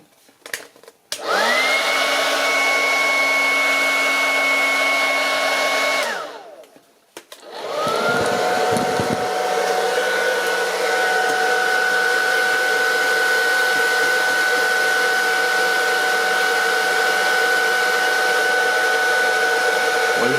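Hot-air gun blowing on a Huawei P30 lite back glass, a loud steady whooshing whine running continuously, cutting out briefly midway, then starting again and holding steady to the end.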